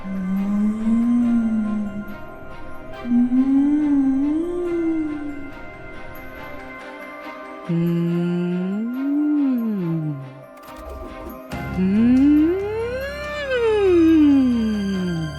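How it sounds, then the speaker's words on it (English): Several eerie, wavering howl-like calls from a creature, each rising and falling in pitch, separated by short pauses and ending in a louder, longer wail. "Monsters that sound like this can be found hiding in the sea mist."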